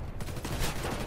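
Continuous rapid gunfire from the Warface video game, dense bursts of shots packed together without pause, loud and close throughout.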